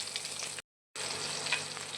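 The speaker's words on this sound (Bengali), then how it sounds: "কুচিয়ে রাখা পেঁয়াজ ভেজে নেবো।" Chopped onions fry in hot oil for an egg curry, a close, steady sizzle broken by a short moment of silence before resuming.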